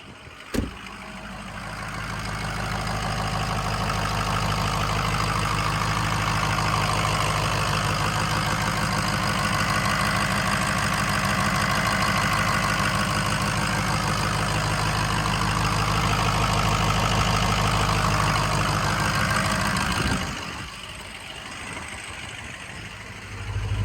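A 2004 Ford Excursion Limited with the 6.0L Powerstroke diesel idles steadily, a loud, even low rumble heard close by and alone, dropping away briefly near the end.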